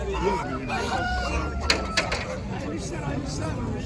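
A rooster crows amid a background of people talking and farmyard noise at a poultry market in Kırıkkale, Turkey.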